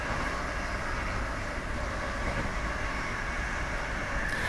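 A GWR railtour train running on the main line from Bristol to London Paddington, heard as a loud, continuous rumble and hiss of rolling stock at speed, steady and unbroken with no talk.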